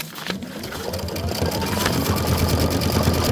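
An embroidery machine stitching a design for a sweetheart bench pillow starts up and settles into a rapid, even needle rhythm, close and continuous, its hum growing slightly louder as it runs.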